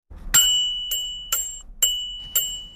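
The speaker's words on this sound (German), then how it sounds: "Aber die Fahrradklingel hat wesentlich mit einem Nachhaltigkeitsprojekt im Magistrat der Stadt Graz zu tun." A bicycle bell rings five times in a steady, evenly spaced sequence, each bright metallic ding close and clear with a short ringing tail.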